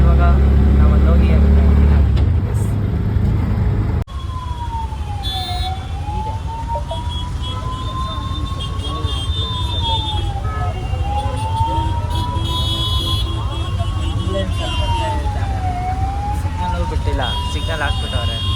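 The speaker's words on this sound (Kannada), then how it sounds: "ಆಂಬುಲೆನ್ಸ್ ಬಂದ್ರು ಸಿಗ್ನಲ್ ಬಿಡೋಣ" An ambulance siren wails in city traffic, its rising and falling tone repeating steadily at moderate distance over engine rumble and road noise, while people talk nearby.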